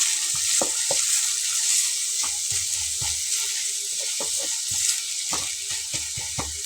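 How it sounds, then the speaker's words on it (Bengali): Onions frying in a pan over a medium flame, a continuous hiss of sizzling oil broken by repeated low knocks and scrapes of a spatula stirring. "একটু সময় নিয়ে পেঁয়াজটাকে ভেজে নেব"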